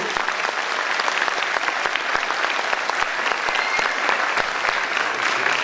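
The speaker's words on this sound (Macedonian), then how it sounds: "Ве молам да ги поздравиме со еден громогласен аплауз" Audience applause at an Easter folk concert, a steady dense clapping from a large crowd that carries on evenly throughout with no voices over it.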